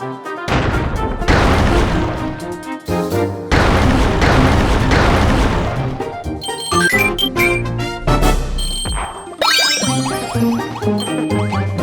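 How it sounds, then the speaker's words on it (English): Kirby Star Allies game audio with booming blasts and bright chiming jingles as a cannon fires, loud and busy throughout, ending in a rapid cascade of tinkling, rising notes. "it's time to get in your cannon."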